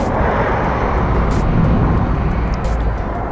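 A drone flies outdoors near the Minworth sewage treatment works, giving a loud, continuous whirring hum over broad wind noise, with faint clicks and no speech.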